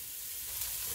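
Home grown onions sizzle in butter in a Dutch oven at a cabin, giving a short, even, close-up hiss of frying with no voices.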